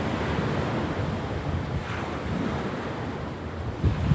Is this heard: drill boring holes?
no